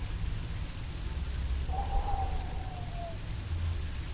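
Steady outdoor rain in the horror video game Song of Horror hisses evenly throughout, with a low rumble beneath it and a single faint tonal whine drifting across the middle.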